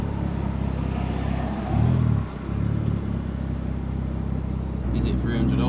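A Vauxhall Zafira GSI engine pulls while driving, a steady droning hum with a brief louder surge of revs midway, then settling and rising again near the end; a voice speaks over it at times.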